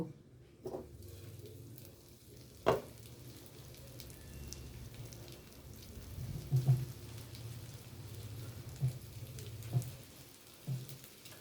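Iffa fish fries in a covered pan over low heat, making a faint, even hiss broken by a few soft knocks and pops, with no talking.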